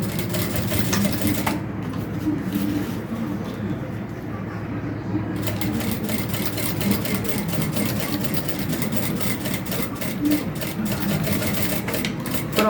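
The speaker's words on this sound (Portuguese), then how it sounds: "E nós vamos passar uma costurinha de pesponta aqui, ó." A sewing machine runs topstitching along a bag, lining and outer fabric together, in a fast rapid rattle that pauses briefly near the start and then continues steadily, close up, with someone speaking over it.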